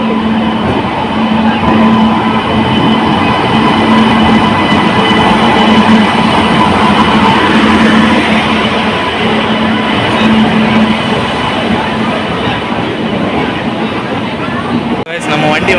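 A passenger train pulls in at an Indian railway station: a loud, continuous rumble with a rolling wheel clatter and a steady hum, and a sharp brake-like squeal near the end.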